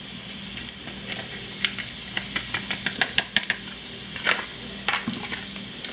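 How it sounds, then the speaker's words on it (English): Flour gets whisked into hot garlic and pancetta fat in a pan: steady sizzling and hiss underneath, with quick clicking metal taps and scrapes of the whisk coming in irregular bursts. "I put in some of the garlic, and now it says to whisk in the flour."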